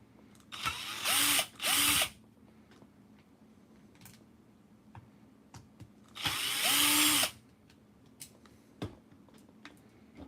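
A power driver backs screws out of a Kyocera Quad Rider RC model in several loud whirring bursts: two short runs close together, a longer one after a pause, and small clicks and taps in between.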